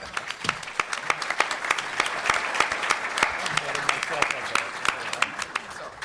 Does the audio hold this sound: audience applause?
yes